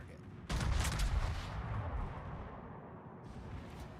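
Naval guns firing at a target in the Arma 3 video game, a heavy, booming salvo that erupts suddenly and rolls into a long rumbling decay, followed by a fainter swell of distant rumble near the end.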